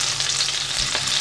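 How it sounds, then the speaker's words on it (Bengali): Ginger paste sizzles in melting butter in a pan, a close, continuous crackling hiss with a light stirring scrape partway through. "বাটারটা মেল্ট হতে হতে আমি দিয়ে দিচ্ছি এর মধ্যে 1/2 চা চামচ আদা বাটা"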